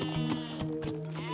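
A sheep bleats in a close, wavering voice, its call pulsing in several quick tremulous beats and standing out clearly against a quiet background.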